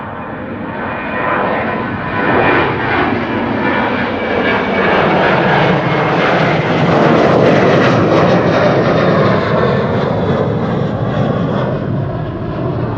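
A KLM jet airliner departing Amsterdam Schiphol Airport roars steadily and loudly, its broad engine rumble swelling as it passes and then holding, with no voices.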